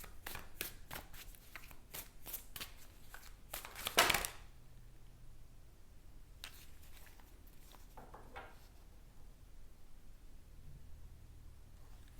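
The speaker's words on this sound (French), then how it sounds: "J'ai envie de tirer une carte de tarot." A deck of tarot cards is shuffled by hand, with soft, quick riffling flutters in the first few seconds, then a quiet stretch with only faint occasional handling.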